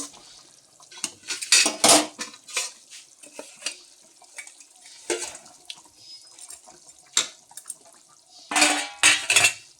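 Fish going into a pot of boiling fish curry comes with clattering pot and utensil knocks, splashes and liquid sloshing in irregular bursts, close by, with no talking.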